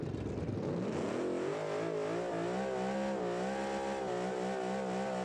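A muscle car with over 1,000 horsepower doing burnouts in BeamNG, its engine held at a loud, steady, wavering roar close by, with no talk.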